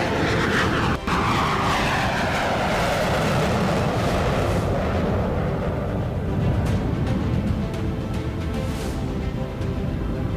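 Indian Air Force aircraft roar overhead during an anniversary air display at Hindon airbase, a loud continuous rumbling engine wash that holds steady for the whole stretch and shifts slowly as the planes pass.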